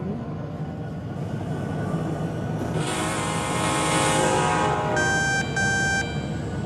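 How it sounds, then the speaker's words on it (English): A Union Pacific freight train loaded with pipes rolls through the Rails Unlimited game world, a steady rumble with a rising whine and brief beeping tones near the end. "the pipeline, aka another Uni Pacific train with a bunch of pipes"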